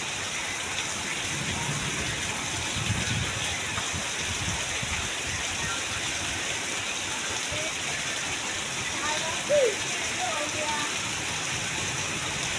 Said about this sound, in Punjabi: ਬਹੁਤ ਤੇਜ਼ ਆ ਗਿਆ ਮੀਂਹ